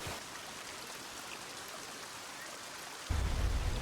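A waterfall in a video game rushes as a constant soft hiss of falling water. Near the end, a deeper, louder rumble swells in.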